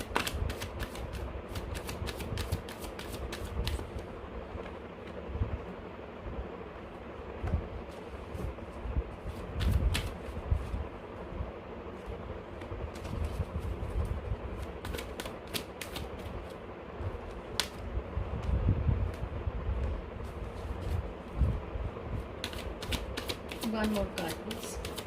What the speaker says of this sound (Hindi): I will pull out 5 cards and see what messages do I get for you.